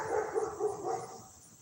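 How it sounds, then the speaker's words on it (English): A dog barks in a short series of several quick, moderately near barks with a slight whimpering tone. "The dog's barking."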